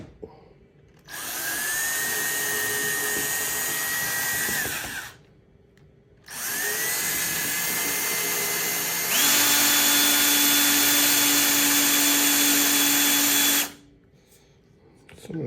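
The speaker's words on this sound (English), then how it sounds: "So I'm going to drill from both sides." A power drill bores out a part from a Ryobi RM300e lawn mower resting on a piece of wood, running in three sustained bursts of several seconds each with short pauses between, loud and close, the last burst at a higher pitch.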